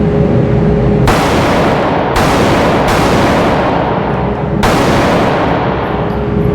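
A CZ pistol fires four sharp, loud shots at uneven intervals close by, each crack ringing out briefly over a steady background noise.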